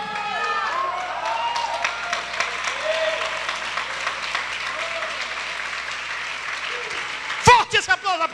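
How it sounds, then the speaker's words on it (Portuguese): A church congregation applauds during a sermon, with dense steady clapping and crowd noise under a preacher's voice, ending in a few sharp loud claps. "Forte esse aplauso à palavra de Deus"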